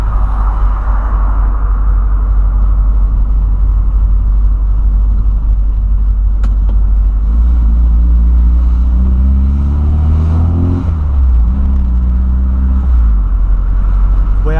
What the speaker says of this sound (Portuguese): Voyage puxa bem, vocês viram aí?